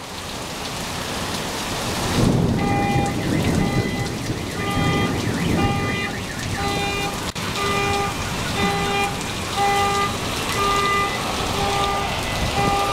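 Heavy monsoon rain pours down steadily in Tucson, Arizona, while a nearby car alarm cycles through repeating electronic tones, with a sharp crack of thunder midway.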